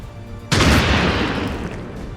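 Soldiers open fire in the tactical strategy game XCOM 2: a sudden loud boom-like volley of gunshots bursts in after a quiet moment, then rumbles on as a dense, sustained fusillade with no one talking.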